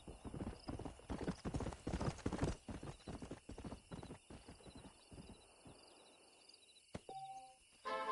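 A stallion's hooves clip-clop in a quick, even rhythm on a road in the video game Red Dead Redemption, loud at first and then fading. A horse whinnies briefly, and a chime follows near the end.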